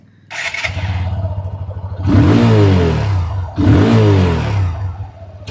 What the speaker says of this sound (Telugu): ఆబ్వియస్లీ ఇంజన్ చాలా రిఫైన్డ్ ఉంది, మీరు విన్నారనుకుంటున్నాను